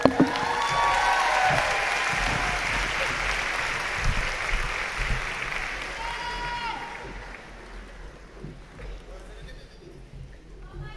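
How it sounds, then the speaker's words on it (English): Sustained cheering and applause from a crowd at a graduation ceremony, loud and steady at first and then thinning gradually toward the end, with scattered whoops and voices mixed in. "We ask that everyone here celebrate our graduates through cheers and applause."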